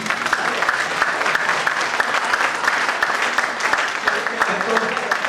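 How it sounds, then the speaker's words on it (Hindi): Audience at a poetry recitation clapping vigorously together, a dense, even wash of applause that keeps going without letting up. "आप एक बहुत जोरदार ताली बजा दीजिए"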